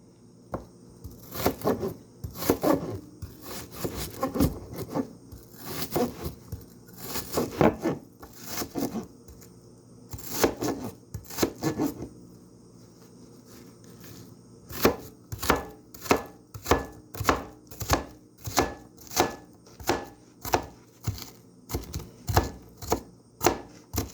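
A knife dices food on a board for a salad with avocado, crispy onion and bacon. The chopping comes as loud, close, repeated thuds, first in irregular bursts and then in a steady rapid rhythm.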